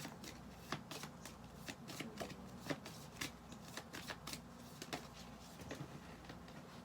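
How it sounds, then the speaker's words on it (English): Tarot cards are shuffled by hand in a quiet room during a card reading, making a steady run of crisp riffling snaps and soft slides close up with no talking. "Okay, I'll just shuffle a little bit more."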